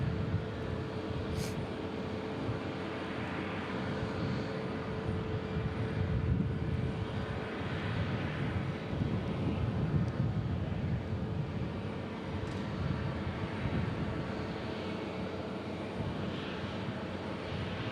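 Jet aircraft with rear-mounted engines at Omaha Eppley Field, a steady loud roar of engine noise rising and holding throughout, heard from the airport ground without any talk.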